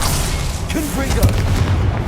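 Confringo fire spell blasting in Hogwarts Legacy, a booming magical explosion with low thuds lasting under the sustained crackle of combat, spoken voices nearby.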